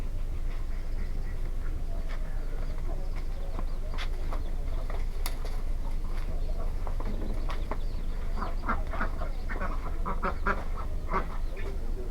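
Ducks quack repeatedly on a farm where duck eggs are collected, a busy flock calling in overlapping bursts over steady loud background noise, with no speech.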